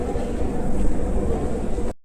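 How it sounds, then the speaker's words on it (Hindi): Steady low rumble of a Delhi Metro train rolling into a station, continuous and fairly loud, then it cuts off abruptly. "मेट्रो आ चुकी है"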